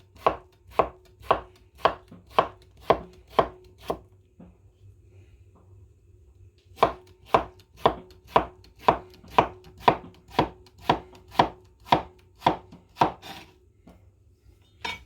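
A knife slices a vegetable into thin half-moon pieces for a Greek salad, chopping through it in a quick, even run of about ten crisp cuts onto a board. A short pause follows, then another steady run of about ten cuts, close and clear with no talk.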